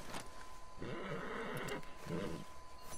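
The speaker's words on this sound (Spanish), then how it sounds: "Eric, me ha matado el caballo." A dying horse in the video game Red Dead Redemption 2 lets out strained whinnying cries in two bursts, over a steady game soundscape with a faint tonal hum.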